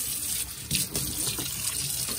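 Warm water runs steadily through the slides of a French horn, splashing and gurgling through metal tubing, continuous and fairly close.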